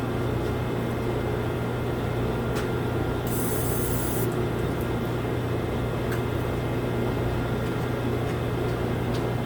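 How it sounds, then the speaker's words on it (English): An aerosol can sprays penetrating fluid during work on a 2007 Toyota Tundra, with a sharper hissing burst for about a second over a steady, noisy rumbling background. "More penetrating fluid."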